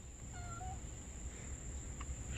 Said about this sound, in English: I want to show you the little kitty